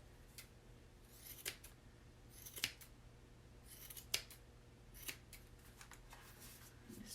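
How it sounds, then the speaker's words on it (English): Close, crisp snips of scissors trimming yarn on a handmade pom pom come in an irregular series of separate cuts over a quiet background. "So we're going to trim again."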